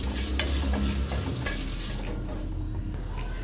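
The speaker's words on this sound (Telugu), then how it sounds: "ఎండు మిర్చి బాగా వేయించుకోవాలండి మాడకుండా వేయించుకోవాలండి" Dried red chillies fry and sizzle in a pan while being stirred, a close, steady crackle with scraping of the spoon against the metal that settles into a softer hiss.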